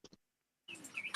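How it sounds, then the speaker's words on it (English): Small birds chirp and tweet outdoors, two quick calls at first, then a busier burst of bright, close chirps after a short silence. "Do I hear birds chirping?"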